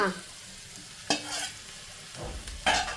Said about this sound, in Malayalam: ഇനി നന്നായിട്ട് ഇളക്കി കൊടുക്കണം